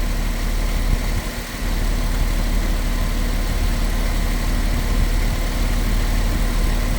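A Porsche 997 engine idles steadily at close range, a constant low hum with a slight dip in loudness early on, no voices.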